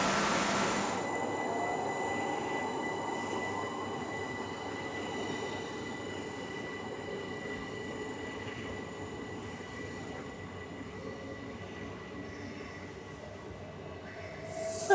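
A Class 375 train idles at a platform in Tonbridge railway station, giving a steady, moderately loud hum and rumble with faint high tones, continuous and unbroken with no talk.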